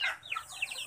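Young Muscovy ducklings in a pen give high, thin peeping calls, several quick chirps in a row at moderate loudness over a quiet background.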